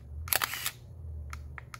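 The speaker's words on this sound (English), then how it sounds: "every time you click the shutter and a photo's taken" Close mechanical shutter clicks from a film camera: a tight cluster of sharp snaps early on, then two or three lighter, spaced clicks. The room is otherwise quiet and no one speaks.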